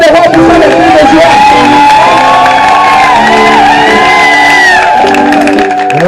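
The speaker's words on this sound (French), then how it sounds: "Est-ce que tu peux entendre le roi des rois pour faire des cris de joie?" A church congregation at an evening fire-and-miracle worship service erupts in loud, sustained shouts, whoops and cries of joy, with a dense crowd roar that continues throughout.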